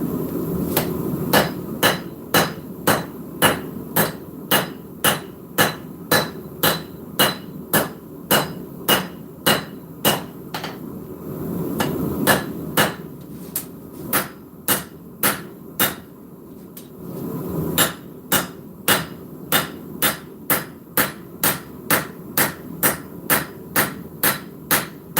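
Steel blade spine of an everyday-carry knife being forged with the rounding side of a hammer: steady, loud, evenly spaced metallic strikes in three long runs, separated by two brief pauses.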